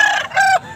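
A rooster crows once at a village hen market, a loud, close two-part call with a rising, strained ending.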